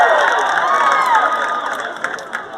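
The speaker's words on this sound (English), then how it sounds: "You can hear the crowd light up after that one." A college wrestling arena crowd at a Big Ten dual meet, Nebraska against Michigan, roars loudly and steadily after a big throw in the 125-pound match, with dense cheering and shouts sustained throughout and a few sharper yells near the end.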